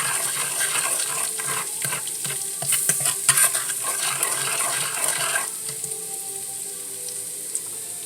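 Salted fish fries in hot oil, giving a steady hiss and sizzle with scattered crackles and occasional stirring clatter throughout. No one speaks.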